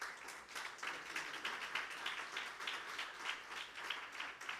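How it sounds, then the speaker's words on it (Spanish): Scattered clapping from a church congregation during a sermon, a dense, steady patter of many hands sustained at moderate level throughout, without voices over it. "Válido el aplauso si se lo quieres dar."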